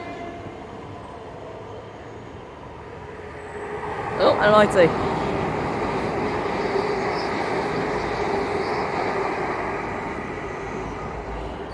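A Class 802 train, unit 802.101, passes at Starcross, a broad steady rumble building and holding for several seconds with a brief louder burst near the start; a voice speaks briefly over it.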